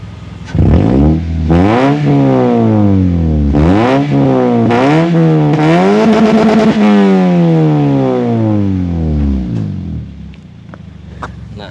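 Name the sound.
Toyota Vios fifth generation double exhaust revving at 1000 RPM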